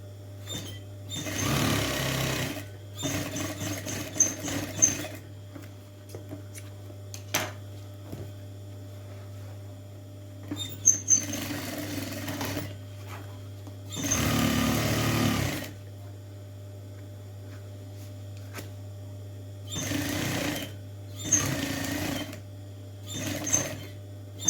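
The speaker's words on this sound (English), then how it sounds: "sew up the bottom seam on the lining and the main part of the bag with a 1/2 inch or 13mm seam" A sewing machine stitches the bottom seam of a handbag lining in several separate bursts of a few seconds each, with a steady mains hum running underneath throughout.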